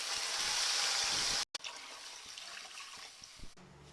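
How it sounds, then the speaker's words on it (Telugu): Two glasses of water pour into a pan of roasted semolina for dry upma, a loud splashing rush that cuts off abruptly, then a quieter hissing simmer with faint clinks. "ఒక గ్లాస్ వేసాం కనుక 2 గ్లాసులు వాటర్ వేసుకుందాం."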